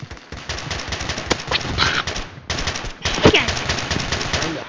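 Video game gunfire rattles out in rapid automatic bursts of close, loud shots, with brief pauses between volleys and a few short sound effects mixed in.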